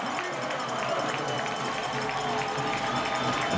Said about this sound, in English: Huge cheer from the crowd for Tom Housel